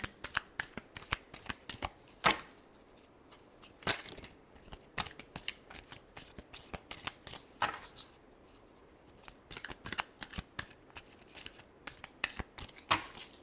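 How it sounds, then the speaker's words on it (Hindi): Tarot cards being shuffled by hand, quick papery riffles and taps in uneven bursts, close and quiet, with no voices. "Last shuffle, two of swords."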